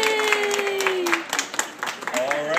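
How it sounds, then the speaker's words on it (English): Guests clap and cheer at Luke's fourth birthday celebration, scattered claps under excited voices and sustained cheering tones, close and lively. "Can we give him a big round of applause"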